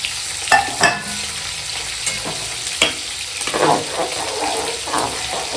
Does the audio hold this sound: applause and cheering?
no